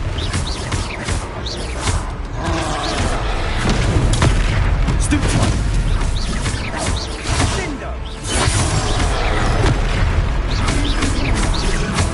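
Hogwarts Legacy battle against trolls, with heavy booming blasts from the Confringo spell amid rumbling combat noise and voices.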